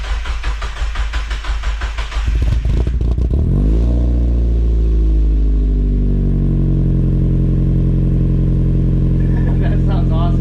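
A Mazda Miata fitted with a new ISR exhaust cranks over and fires into a loud, steady idle with a deep, throaty drone close to the microphone.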